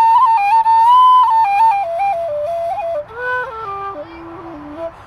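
A conical-bore low D whistle plays a slow, descending melody in its second octave, clear and close with held, pure tones and no voices over it.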